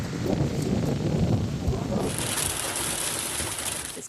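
Heavy rain pours steadily as a dense roar during catastrophic flooding in Auckland, with low rumbling thunder in the first half before the hiss of downpour takes over, loud and close with no voices.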